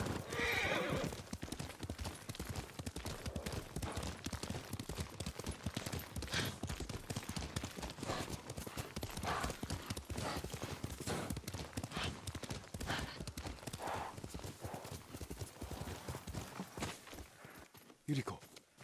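Horse hooves clip-clop steadily and close in Ghost of Tsushima, a dense trotting rhythm running the whole way, with a whinny or two and occasional combat bursts, under spoken dialogue.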